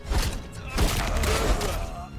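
Bursts of gunfire come from the Atomfall video game: several sharp rattling shots in quick succession, with voices talking over the combat.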